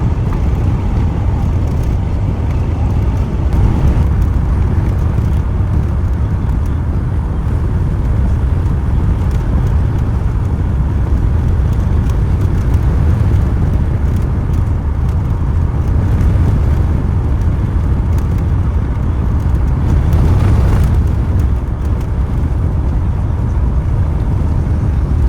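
A car cruises steadily along the road on a long drive back toward Quartzsite, a continuous close engine and tire rumble with broad road noise that holds its loudness throughout, no talking.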